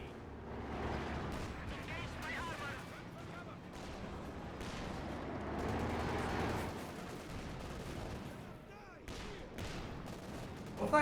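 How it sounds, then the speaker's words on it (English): Battle in Company of Heroes 2 with both sides trading rifle and machine-gun fire and occasional heavier blasts, rapid overlapping shots at a distance under a commentator's ongoing talk. "Both sides are firing."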